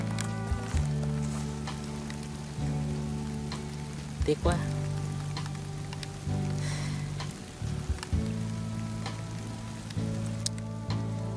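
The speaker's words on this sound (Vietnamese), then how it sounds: "Trời mưa lớn luôn rồi." Heavy rain pours down outdoors during an eel-fishing outing, a steady close hiss of drops covering everything, with a brief spoken voice and a few tonal sounds over it.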